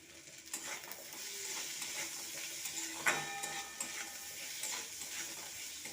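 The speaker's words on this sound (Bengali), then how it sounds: "সবজিটাকে ভালো করে মেশানো হয়ে গেছে।" Vegetables are stirred into flattened rice pulao with fried raisins and cashews in a pan, giving a steady scraping and soft sizzle with a few clinks of the spatula against metal, alone and close.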